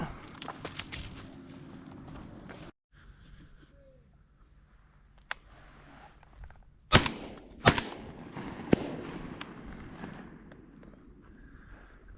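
Shotgun blasts ring out during a South Georgia dove hunt, a few sharp, loud reports spaced apart in the open field, the sharpest pair coming close together, with faint outdoor rustle between them.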